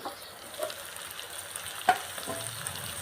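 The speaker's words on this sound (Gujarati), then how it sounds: "આ આપણે પરવળના છોડવા છે આ તેલની અંદર પકડી જશે દળી જશે" Pointed gourd (parval) pieces fry in oil in a pan, a soft steady sizzle with a couple of faint clinks of a spoon, no voices.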